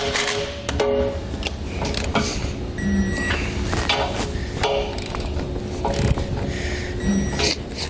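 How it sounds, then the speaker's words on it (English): A 3/4 inch socket wrench tightens the feet of a B and W Companion OEM fifth wheel hitch for a Ram towing prep package, giving a continuous close mechanical ratcheting with repeated clicks and occasional knocks. "We'll take a 3/4 inch socket, and then we're going to tighten and torque them"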